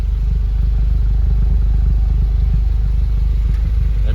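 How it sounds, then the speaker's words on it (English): High-mileage Honda Civic Si on its original exhaust runs steadily up close, a low, throbbing idle with a faint clattery edge, holding constant for a few seconds with no talk over it. "you probably know this based on how it sounds, but that's the original exhaust"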